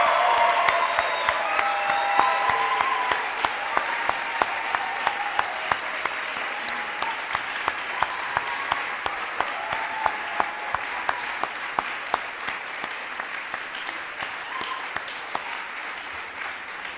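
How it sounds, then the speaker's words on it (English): Sustained audience applause at a music school convocation honoring piano scholarship winners, a dense, steady wash of many hands clapping that holds at an even level throughout with no talk over it. "Please applaud all of these wonderful pianists."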